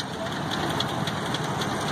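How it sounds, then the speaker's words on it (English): A 1962 Ford 841 Powermaster tractor with a four-wheel drive conversion runs in an engine show parade, a steady low idling rumble heard close under outdoor noise. "Next, we have a Ford 841 Powermaster, 1962."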